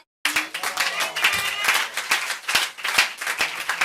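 A church congregation breaks into applause after a sudden start from silence. Dense, energetic clapping from many hands continues steadily, close and loud.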